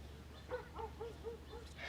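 Dogs let out a quick run of about five short, high yips and whimpers, faint and somewhat distant, against a low background hum.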